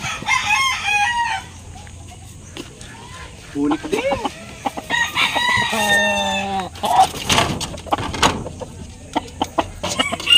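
Roosters crow loudly in drawn-out, rising calls, with hens clucking nearby and people talking over the farmyard noise.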